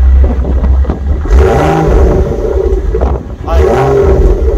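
A BMW M135i engine revs up loudly twice, rising in pitch and falling back between bursts, close by, with a voice talking faintly underneath.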